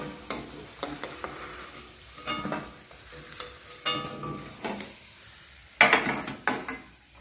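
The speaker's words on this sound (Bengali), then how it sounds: "বাদামগুলো ভেজে নেবে।" Nuts frying in a pan, heard as intermittent clattering stirs and scrapes against the metal over a low sizzle, the strokes coming in irregular bursts up close.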